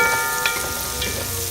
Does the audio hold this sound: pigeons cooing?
no